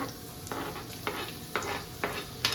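Onion added to a hot pan for egg rice, sizzling steadily while being stirred, with soft scraping strokes recurring roughly every half second, close up and without speech.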